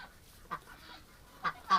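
Three short honks from ducks outside a duck rescue, the first near 0.5 s and two louder ones close together at the end, with a quiet pause between and no talking.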